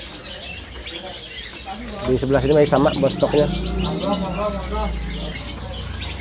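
Caged songbirds at a bird kiosk chirp and call, including East Java stock, with busy trilling twitters rising midway over a low hum while someone talks throughout.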